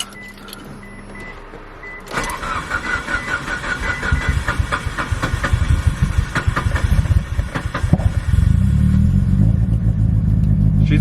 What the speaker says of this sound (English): She's alive and she sounds good. Yeah, she sounds beautiful.